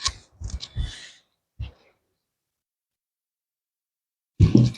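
Scissors cut the fabric neckline of a kimono dolman dress in a few quick, close snips, followed by a long silence and one short final sound.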